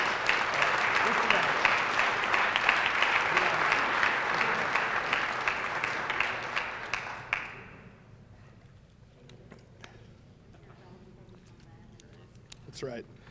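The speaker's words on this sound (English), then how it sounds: "so give them one more round of applause." A banquet audience at the 2023 UMN Morris Cougar football banquet gives the senior class a steady round of dense applause for about seven seconds, then it fades out to a quiet room with a few stray claps.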